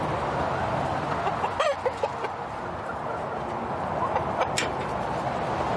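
Backyard homestead hens and a young rooster, about four months old and just starting to lay, cluck softly and steadily through the clip, with a couple of brief, sharper calls standing out.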